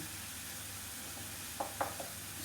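Onions browning in a pan while making kısır, a faint steady hiss of frying with a few brief utensil clicks near the end.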